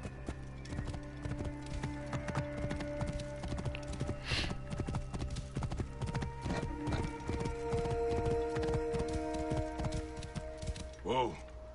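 A horse in the video game Assassin's Creed Origins gallops with rapid, rhythmic hoofbeats, ending in a clear neigh near the finish.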